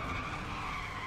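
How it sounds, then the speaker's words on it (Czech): Tires of a Mustang squealing in the video game Need for Speed: The Run, a steady loud high-pitched screech held throughout with engine noise beneath. "To ale jak pískej ty pneumatiky, to je hodně hezký"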